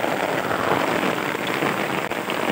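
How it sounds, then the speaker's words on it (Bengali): A torrential downpour drums steadily on surfaces nearby, a loud unbroken wash of rain with one short dip near the end. "এই দেখেন কি অবস্থা মুষলধারে বৃষ্টির।"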